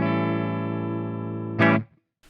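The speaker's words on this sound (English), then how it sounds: "This is the clean tone humbucker on this guitar." A clean electric guitar tone through a humbucker pickup rings out as one sustained strummed chord, full and close, then a quick second strum before it cuts off into silence.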